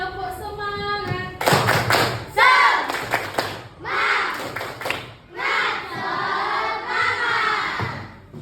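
Schoolchildren in a classroom doing a rhythmic tepuk semangat spirit clap, loud close bursts of patterned clapping mixed with shouted chant syllables in several phrases, lead off by a teacher's voice.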